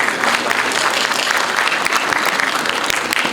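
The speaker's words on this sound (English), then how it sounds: "A huge round of applause for sir." An audience at an international conference applauds for an honoured guest, dense, steady clapping that fills the space without pause.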